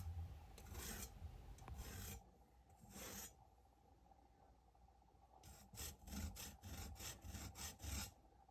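A hand rasp scrapes thick callus on a hand affected by palmoplantar keratoderma, heard as bursts of coarse rasping strokes, a few spaced early on, then a quick run of rhythmic strokes near the end, close and with no talk.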